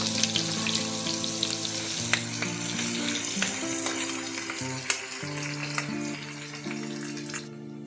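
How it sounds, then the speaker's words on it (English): Garlic paste sizzles steadily in a hot pan with oil, a dense continuous frying hiss with occasional sharp crackles and pops, plus faint stirring, close and without talk. "Add garlic paste and saute until it begins to turn golden brown."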